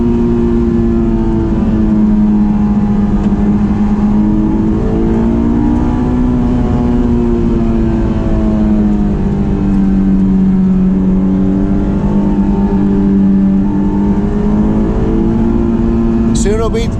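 A Honda S2000 engine revs hard toward 8000 RPM during a drive, its loud rising and falling whine sustained across the whole stretch with steady harmonic sweeps and no pause.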